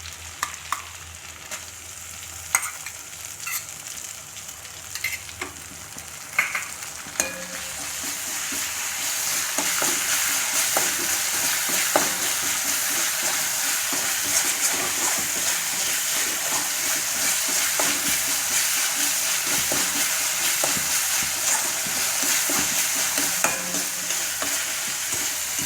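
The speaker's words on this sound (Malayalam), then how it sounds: "അപ്പോൾ അതിലേക്ക് ഇഞ്ചി, വെളുത്തുള്ളി, പച്ചമുളക് ചതച്ചത് നമുക്ക് ആദ്യം അത് ചേർത്ത് കൊടുക്കാം." Crushed ginger, garlic and green chilli fry in hot oil as a prawn biryani gravy base, with a steady bright sizzle that swells louder partway through and sharp scrapes and taps of a spoon stirring in the pan.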